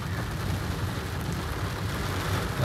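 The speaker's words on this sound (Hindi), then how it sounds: "फुल पावर बारिश हो रही है 15 मिनट से" Heavy rain pours steadily onto a Kia Seltos diesel, a dense continuous hiss and patter on the car with no break and no voices.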